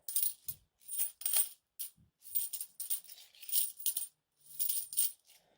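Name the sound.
clad coins clinking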